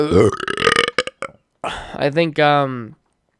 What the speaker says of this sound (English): I'm gonna listen to this every time I burp